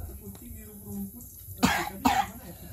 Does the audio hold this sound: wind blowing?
no